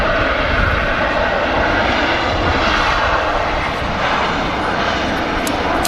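An airliner engine roars at Manchester Airport, a loud, steady broadband drone that holds unbroken throughout, with no speech over it.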